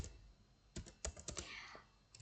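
Fingers typing on a computer keyboard, a quick burst of close, light key clicks after a brief pause, over a faint steady background hum.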